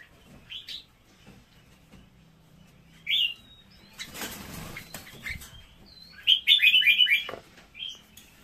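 Chirps from a nest of baby birds, eagle-gene bird chicks, come in short bursts: a brief call near 3 seconds and a longer rapid cluster of high cheeps later, close and fairly loud over a quiet background with some rustling.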